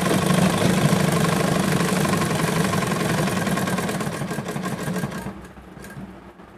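A sewing machine runs steadily while stitching an elastic-waist skirt, giving a continuous close mechanical whir for about five seconds before it slows and stops near the end.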